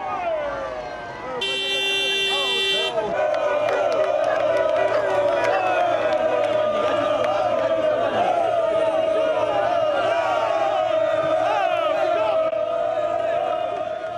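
Bari football fans at the San Nicola stadium celebrating a 4-1 win over Novara, a loud, steady crowd roar with chanting and horns throughout, and a brief electronic tone early on.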